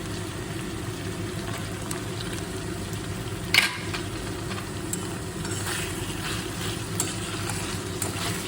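Steady close sizzle of tomato going into a pan of frying onion, ginger and garlic, with a brief louder splash-like crackle partway through and occasional small stirring clicks over constant frying hiss.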